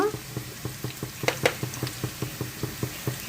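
Ginger garlic paste fries with onions in a pot, a steady sizzle broken by regular stirring scrapes, with a couple of sharper knocks midway.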